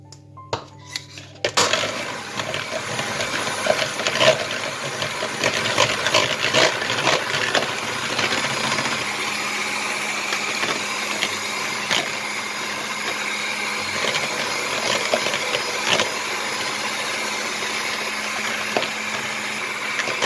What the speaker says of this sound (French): je vais battre mes 2 blancs d'œufs en neige